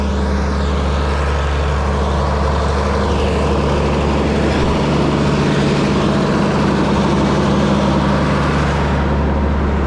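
A tractor engine idles at a steady, close, low rumble that holds without a break for about ten seconds, with no talking.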